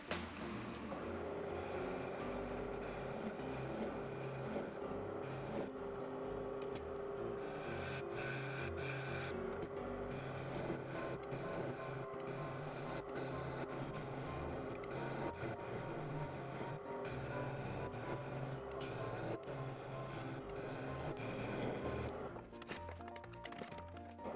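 A 2-inch Forstner bit cuts a recess into a segmented maple and resin bowl, a faint, steady mechanical whir with rhythmic rattling and thuds that quietens briefly near the end.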